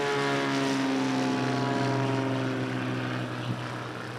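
A STOL airplane climbs out after takeoff at a STOL competition, its propeller engine droning loudly and steadily with a slight fade as it pulls away, no voices over it.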